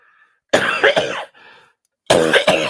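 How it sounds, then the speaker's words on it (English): Two loud, harsh coughing fits close to the microphone, separated by a brief quiet gap with a faint wheezy breath. "I have to cough."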